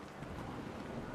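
Steady broadband wind gusting and rising in the game What Remains of Edith Finch, a continuous airy rush with low rumble that holds at an even level throughout, with no other sounds over it.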